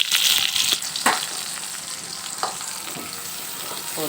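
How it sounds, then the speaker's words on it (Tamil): Mustard seeds spluttering with onion and curry leaves frying in hot oil while making noodles, a close, steady sizzle with scattered pops and crackles, no talk. "கடுகு போட்டுக்கணும். நல்லா பொரிஞ்ச பிறகு வெங்காயம் கருவேப்பிலை"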